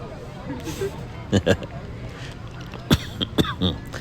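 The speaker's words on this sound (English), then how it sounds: "I'm leaving the cough in there. Why not? Coughed on the audio." A couple of sharp coughs break through a murmur of background noise, followed by a few smaller throat sounds.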